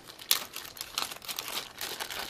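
A blue plastic bag crinkles and rustles up close while being handled during an unboxing, in irregular crackly bursts with one sharper crunch near the start, no talk.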